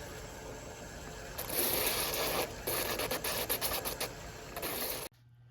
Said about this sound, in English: we're gonna do is use the inflatable drum sander and get those just nice and pretty